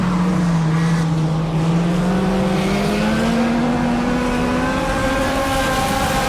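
A dirt-track race car engine drones loudly and steadily at a dirt speedway, its pitch climbing gradually as it accelerates, with a rough background roar of other race cars.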